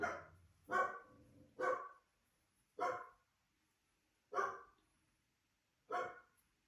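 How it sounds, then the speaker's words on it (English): Dog barking in separate bursts, about six sharp barks with gaps between them, fairly close and loud against a quiet background. "my dogs do this all day long"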